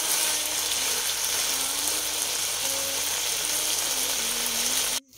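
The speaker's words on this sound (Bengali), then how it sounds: "আর এখানে এই যে বড়ির ঝোলটা বানাচ্ছি, এগুলো সব ভেজে নেব" Lentil dumplings (bori) fry in hot oil for a vegetarian Bengali curry, a steady close sizzle with faint bubbling throughout, ending in a sudden clatter as the pan is handled.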